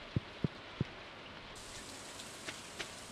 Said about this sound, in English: Raindrops are really loud on the metal roof of our trailer.